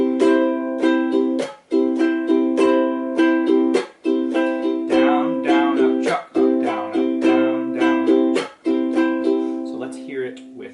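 Close ukulele strumming in a down, down, up, chuck, up, down, up pattern with a recurring percussive muted chuck in each bar, an even rhythm; a voice briefly talks over the middle and end.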